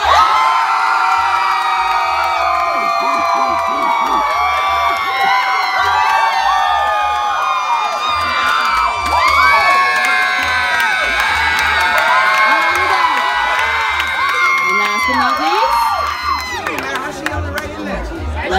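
A concert crowd cheers, whoops and yells for a band taking the stage, a loud, sustained wall of shouting and applause with high-pitched screams rising throughout and a few voices standing out near the end.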